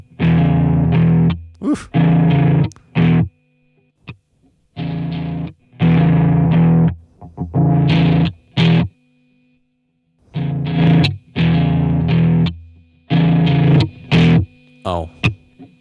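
Heavily distorted synthesized sample loop, thick and buzzy, playing in loud repeated bursts with short gaps between phrases, a brief spoken exclamation in the middle.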